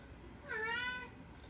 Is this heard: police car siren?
no